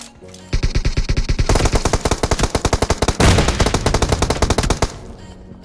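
Rapid automatic gunfire in a multiplayer shooter, with cover fire from a building: long bursts of loud, evenly spaced shots that pause briefly and then resume, heard alone with no talk.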